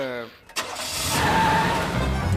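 A big cartoon car engine turns over and roars to life after a short cranking sputter, then settles into a loud, steady rumbling run; voices are heard briefly at the start.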